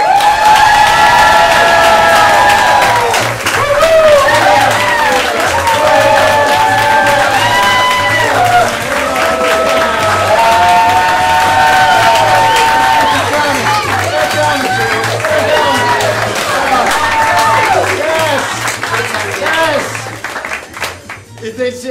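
A crowd cheers, whoops and claps loudly as students take the stage at a level 1 student showcase, with music playing underneath the whole time before the noise thins out at the close.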